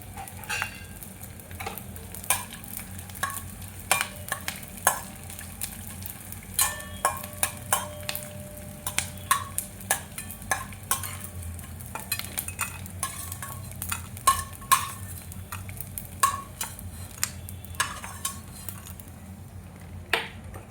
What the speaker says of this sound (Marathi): हा आपण तुपात थोडा थोडा करून तळून घ्यायचा.